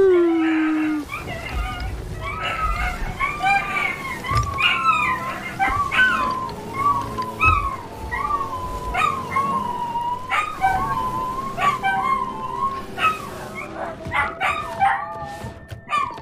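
Dogs bark and howl in the pirate video game Sea of Thieves, a chorus of rising and falling wails and yelps running throughout, loud and close, with busy game noise underneath.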